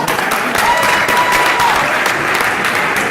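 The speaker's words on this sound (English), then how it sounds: "let's give him a round of applause" A loud, sustained round of applause rises from the crowd at an athletics banquet for Coach Lambert. It makes a thick, even roar of many hands clapping close by that continues without a break.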